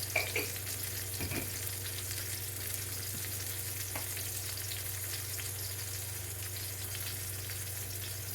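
Salmon fillet seasoned with salt sizzles steadily in a hot frying pan, a continuous close crackle and hiss with a few faint clinks early on and no voices.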